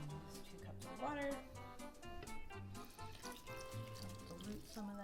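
Water running from a kitchen tap into a pot for pasta, a steady splashing stream heard beneath voices talking nearby.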